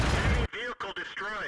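A tank cannon fires in the World of Tanks video game: one loud, dense blast fills the opening half-second, then it cuts off and a voice speaks over quieter game sound.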